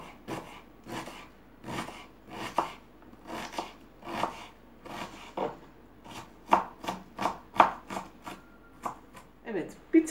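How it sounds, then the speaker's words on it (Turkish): Rhythmic knife chops as two medium onions are cut into small cubes on a board, steady and near, with someone speaking over the cutting. "küp küp soğanlarımızı doğruyoruz"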